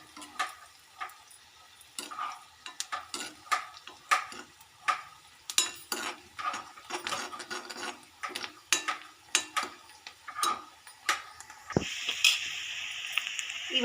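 Spices and tomatoes frying in a pan for a fenugreek tomato curry, with a steady sizzle and frequent scraping and clinking of a spoon stirring against the pan, close up, then a louder hiss near the end.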